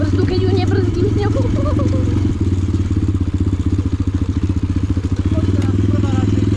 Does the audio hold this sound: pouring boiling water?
no